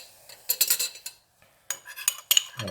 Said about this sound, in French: Et on va mélanger le tout avec environ une demi-cuillère à café d'eau.